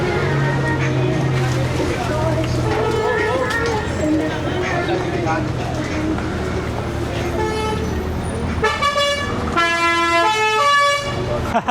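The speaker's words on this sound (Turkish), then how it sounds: "Kornaya bak." Busy street traffic in Negombo, Sri Lanka, with repeated car horn honks, growing louder and more frequent toward the end, amid engine rumble and distant voices.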